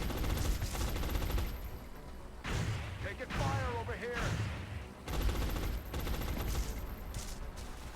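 Bursts of turn-based tactical gunfire from XCOM: Enemy Unknown, dense repeated shots filling most of the span with a brief quieter gap, heard under game voices and chatter.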